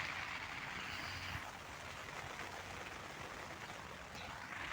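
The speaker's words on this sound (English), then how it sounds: "It's raining right now." Rain falling outdoors as a soft, constant broadband hiss, faint and steady with no voices.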